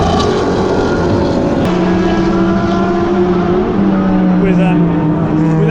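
Loud race car engines roar past in a continuous stream at Spa in 2019, their pitch shifting as they brake and accelerate through a downhill S-bend, with talk underneath.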